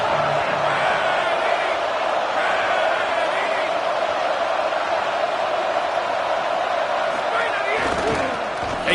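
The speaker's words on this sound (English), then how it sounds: "Listen to this crowd just shaking the girders of this place trying to help their defense." A football stadium crowd roars in a steady, loud wall of noise cheering on the home defense, with a commentator talking over it throughout.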